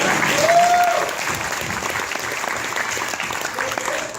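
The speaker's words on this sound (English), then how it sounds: "we can get a round of applause" Applause at a wedding for Luke and Monique, a crowd clapping steadily for about four seconds, loudest near the start, with a brief tonal sound early on and faint voices mixed in.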